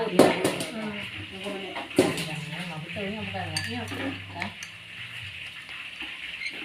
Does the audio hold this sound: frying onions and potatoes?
yes